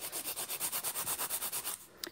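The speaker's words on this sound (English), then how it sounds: "So I'm gonna take my file and we're just gonna reshape the nails, keeping them stiletto." A nail file rubs back and forth across stiletto-shaped nails to reshape them, making about fifteen steady, evenly spaced rasping strokes up close before stopping with a small knock at the end.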